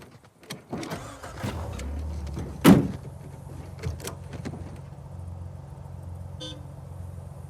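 A vehicle in the game Uncharted 4 starts and moves off, with door and mechanical thunks, a sharp loud knock near the start, then a steady low engine rumble running under faint background sounds.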